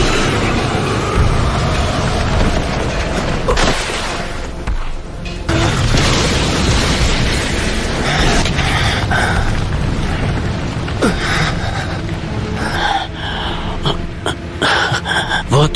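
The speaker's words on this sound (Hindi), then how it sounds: "Fire style dragon flame jutsu." Fire-style dragon flame jutsu effect from an anime battle: a loud, dense roaring blast of fire and explosion that fills the whole stretch, with a brief dip midway and sharp crackling bursts toward the end.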